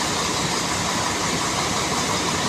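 A MAN diesel bus engine runs with a steady broadband roar and hiss, heard continuously from nearby with no voices.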